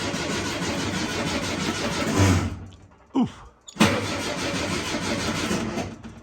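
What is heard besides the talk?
VW Beetle engine cranking with a jumped starter button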